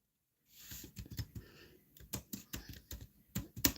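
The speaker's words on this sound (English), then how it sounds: "I'm typing it in right now." Rapid typing on a Bluetooth keyboard: a quick run of close, crisp key clicks in irregular bursts after a brief silence, with no voices.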